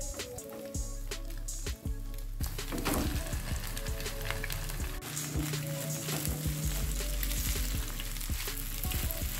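Rice sizzles and crackles steadily in a hot pan for nasi goreng with scrambled eggs and spices, close and continuous, with scraping stirs and clatters as the pan is worked.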